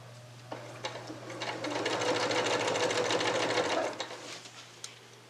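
A sewing machine stitching curved quilt seams from strip-pieced fabric, starting with a few short bursts, then running in a steady rapid whir for about two seconds before slowing to scattered stitches, close and clear with no talk.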